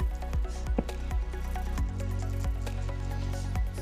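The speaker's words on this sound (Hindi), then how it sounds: "ये देखिए इसमें मैंने पानी ऐड कर दिया है" Water goes into a simmering spicy jackfruit gravy, giving soft squelchy pops and scattered drips. The sounds are close and moderately quiet, with no talk.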